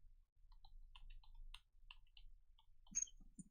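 Typing on a computer keyboard heard faintly over an online call, with scattered light key clicks in an irregular rhythm and no talk.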